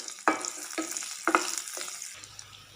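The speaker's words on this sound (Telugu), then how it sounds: "ఒక్క స్పూను వాము మంచిగా వేయించేయండి ఫ్రెండ్స్" Ajwain seeds fry in hot oil for a tempering, giving a steady close sizzle broken by sharp crackles and stirring scrapes, with no talk.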